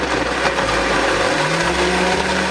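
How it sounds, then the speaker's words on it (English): A blender whirs loudly and steadily while blending tomatoes and garlic, its motor pitch shifting slightly as the contents churn, with no voices. "So I'll be turning on my blender."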